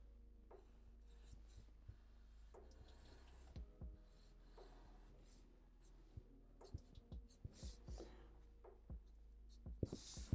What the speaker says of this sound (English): Just got to draw in this side now.